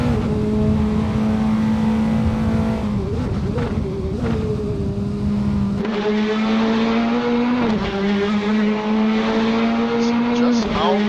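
An F4 open-wheel race car in the Caribbean Formula Cup laps Donington Park National circuit, its engine screaming loud and close with steady high revs, sharp pitch drops at gear changes and downshifts, then climbing again.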